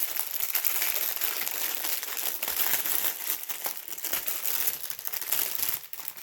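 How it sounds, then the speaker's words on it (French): A plastic bag of diamond painting drills being torn open, with a steady close crinkling and crumpling that runs continuously throughout and is fairly quiet. "j'en profite pour ouvrir mon boudin de diamant"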